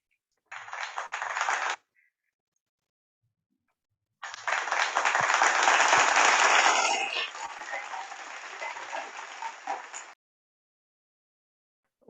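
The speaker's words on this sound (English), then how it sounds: "So let's have a round of applause for Nawaz sir." Audience applause at a formal talk-series event on post-pandemic economic recovery, with a short burst of clapping followed by a longer, louder round of sustained applause that gradually thins before stopping.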